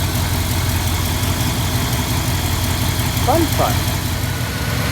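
A 1962 Ford Thunderbird engine with an Autolite 4100 carburetor idles in a steady low rumble, with a brief spoken word over it partway through.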